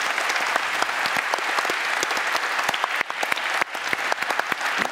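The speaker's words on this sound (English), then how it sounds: "Please do applaud them." An audience gives sustained applause for volunteers, many hands clapping in a dense, steady patter with sharper individual claps standing out, no talk over it.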